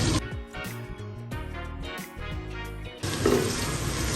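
Onions with red and green chilies fry in a pan with a steady sizzle and crackle, the hiss swelling louder toward the end under background music.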